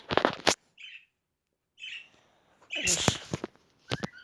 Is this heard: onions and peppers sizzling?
no